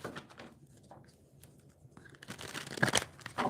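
Soft papery riffling and crinkling close by, a few quiet shuffles of tarot cards with light rustling in between.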